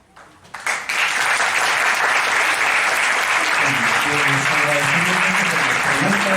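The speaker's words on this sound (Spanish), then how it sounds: "les voy a pedir un fuerte aplauso una vez más para todos nuestros presentadores" An audience at a university faculty's 50th anniversary event bursts into loud, sustained applause that quickly swells and fills the hall, with faint voices underneath.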